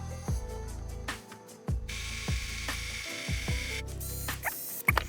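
Small screws come out of a tiny FPV freestyle drone frame, with a motorized driver whirring in short repeated bursts separated by brief pauses and a sharper high whine partway through, close up and without speech.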